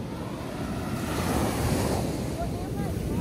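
Ocean waves wash steadily onto a Long Island beach during a hurricane, a continuous close surf roar mixed with wind across the microphone.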